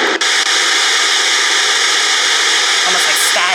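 A travel white noise sound machine plays a heavy storm track, a loud dense steady hiss like pouring rain that fills the whole stretch without pause.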